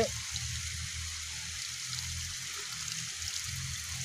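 Cold spring water runs steadily at a roadside source in Kanthalloor, Kerala, as hands are rinsed under it, a continuous close splashing rush with no talk.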